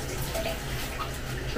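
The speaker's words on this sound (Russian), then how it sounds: "Вот такая вода прям бежит. Будто рвется." Tap water runs hard and steady from a faucet, at times sputtering as if bursting out, a continuous close rushing wash with no talk over it.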